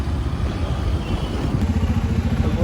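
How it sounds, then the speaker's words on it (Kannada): A KTM 200 motorcycle engine runs close by with a heavy, throbbing idle. The low, even pulsing holds steady throughout and no one speaks over it. "ನನ್ನ ಗಾಡಿ ಬಂದಿವಾಗ ನೀನು ಈ ಗಾಡೀಲಿ ಹೆವಿ ಸೌಂಡ್ ಇದೆ ಗುರು"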